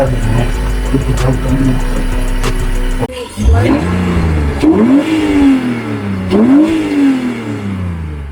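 A BMW E46 engine with an intake idles, then revs up sharply several times, each rise and fall loud and close.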